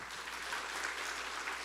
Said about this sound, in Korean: 다 같이 박수 한번 전해드리겠습니다